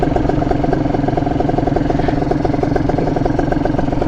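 A motorcycle engine running steadily at low rpm during a clutch start, a close, loud, even thrumming pulse that holds without revving, no talking.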